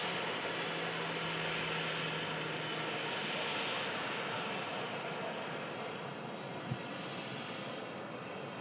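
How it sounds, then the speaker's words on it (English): A Lufthansa airliner bound for Frankfurt roars on its takeoff roll, a steady broad engine rumble and whine heard from a distance. "And Lufthansa to Frankfurt on the roll."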